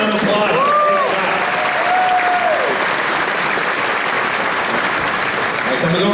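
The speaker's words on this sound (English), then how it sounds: "Let's give him a round of applause." Crowd at a Gene Simmons KISS Kruise event in Las Vegas applauding, a sustained, dense roar of clapping that holds steady throughout, with a voice briefly audible at the start.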